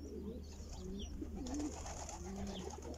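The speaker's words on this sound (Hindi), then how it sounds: "इस तरफ कबूतर हैं" Soft, low pigeon coos repeat close by in a steady murmur, with faint chirps and a low background hum.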